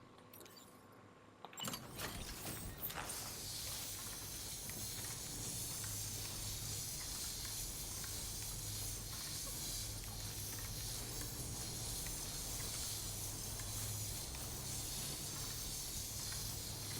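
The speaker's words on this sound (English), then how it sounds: "I might as well use some repair spray kit because I've clearly damaged some items." Repair spray kit in the video game Death Stranding 2: a sudden onset followed by a long, steady, loud hiss that runs unbroken for about fifteen seconds with no talk.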